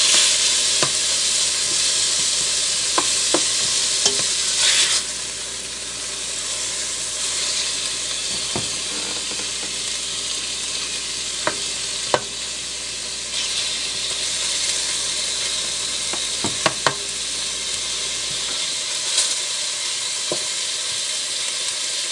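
Salted and peppered meat browning in a hot pan for chili mac, a steady loud sizzle and hiss with occasional utensil scrapes and taps, fading out near the end.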